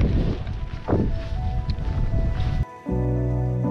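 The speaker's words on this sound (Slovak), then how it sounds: "sa nám zatiahlo a takto extrémne tu fúka" Strong wind buffets a mountain summit in the Faroe Islands, roaring and gusting loudly against the microphone for a couple of seconds before cutting abruptly to a steady tonal hum.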